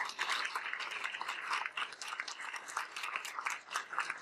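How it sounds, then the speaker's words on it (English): Faint, steady applause from an audience at a university student showcase, a soft continuous patter of many hands clapping at a distance. "if you could give a round of applause for all the students"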